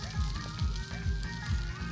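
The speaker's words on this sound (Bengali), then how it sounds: "ফ্রাই রান্না হচ্ছে, ফ্রাই" Meat frying in a pan at an outdoor picnic cook-up, a steady sizzle with faint crackle running throughout the short stretch, moderately close, with no talk over it.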